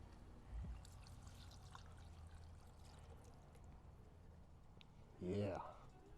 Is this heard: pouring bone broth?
yes